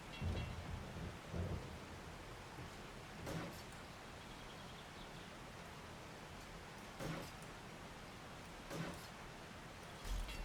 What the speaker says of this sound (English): It's kind of hard to hear the zombies coming up behind me with this rain pouring down